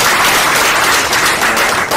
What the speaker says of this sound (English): We need a better clap for the extension.